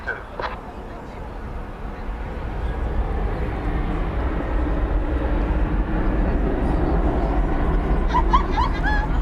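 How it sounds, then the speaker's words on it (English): An Embraer E-jet airliner at DFW Airport at night, a steady broadband jet roar that swells and holds loud throughout, with faint radio-like chirps near the end. "An E-jet, as you can see"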